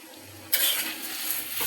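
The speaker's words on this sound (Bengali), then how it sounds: "একটু নেড়ে চেড়ে দিয়ে দিব।" Potato and red lentil curry with vegetable stems gets stirred in a pan: a soft rumble gives way to a sudden bright, hissing scrape of the spoon that continues steadily, close and fairly quiet.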